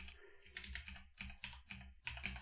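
Rapid keystrokes on a computer keyboard while entering a terminal restart command for a Raspberry Pi Google AIY assistant, a steady close-up clatter of clustered taps with short pauses, no voice.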